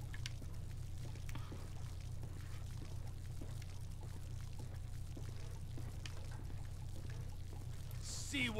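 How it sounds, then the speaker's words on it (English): Gasoline poured out as a trail in GTA 5, a steady liquid pour running continuously over a low droning background hum. "Pour that gas trail."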